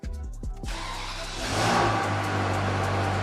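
A Ferrari 360 Spider engine runs smoothly with no misfires after a faulty lambda sensor is disconnected, a steady close idle that rises into a louder rev partway through, alone without talk.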